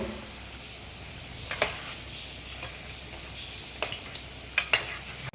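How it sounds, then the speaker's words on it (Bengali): Chicken rolls fry in oil with a low, steady sizzle and hiss, interrupted by a few sharp utensil clicks and taps at close range, with no one talking. "ভাজার প্রসেস চলছে আমাদের রোলগুলো"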